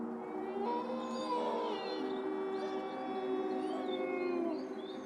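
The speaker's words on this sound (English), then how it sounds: "Their howl is an all-purpose telegraph." A wolf howls in long, sustained, wavering tones, with other howls overlapping in a chorus that rises and falls over several seconds at moderate distance.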